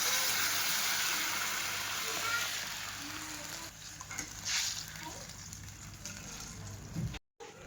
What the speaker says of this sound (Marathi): आता बघा सगळं सामान मी तळून घेतलं आणि इथं टाकली मटकी शिजायला.